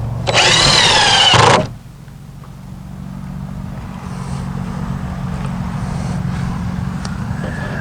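A power drill drives 2.5-inch coated deck screws into a wooden fence with one short, loud burst, followed by a steady low background hum.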